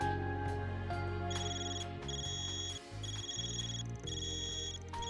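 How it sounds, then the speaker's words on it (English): A cipher phone rings in the Trails beyond the Horizon video game, a repeating electronic ringtone in steady bursts that is loud and close, over a layer of game music, with no talking. "Man, your cipher's ringing."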